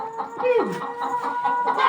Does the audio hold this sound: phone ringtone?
no